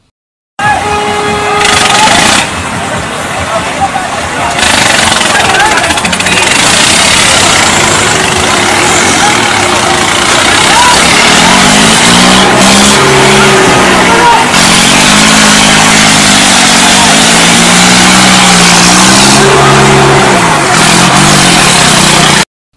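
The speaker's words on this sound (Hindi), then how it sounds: "देखिए कैसे एक शख्स पुलिस वालों को स्टंट करते हुए ट्रैक्टर से रौदने की कोशिश कर रहा है" A tractor engine runs loud and continuous throughout a stunt near police at a farmers' protest in Muzaffarnagar, droning and idling with pitch shifts as it revs, while voices talk over it.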